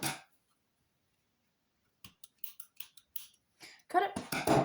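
Scissors snipping a yarn end on a crocheted Lego Ninjago Lord Ras figure, giving a series of short, close, crisp cuts and clicks after a quiet pause, followed by a voice talking.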